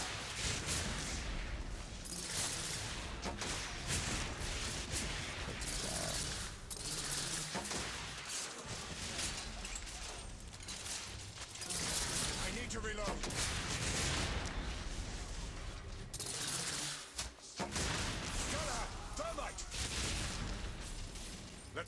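Weapon fire from a thermite gun in The Order: 1886, a dense, loud barrage of sharp blasts and rumbling booms running continuously through a chaotic gunfight, with speech mixed in.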